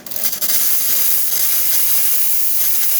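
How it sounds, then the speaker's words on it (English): A loud, steady hiss of steam blasting from the wand of a freshly tuned-up La Spaziale Lucca espresso machine, starting abruptly and holding strong for a few seconds. "And let's test the steam."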